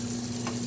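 Onions sizzle in a hot skillet in a home kitchen, giving a steady close crackle and hiss over a low constant hum from the stove.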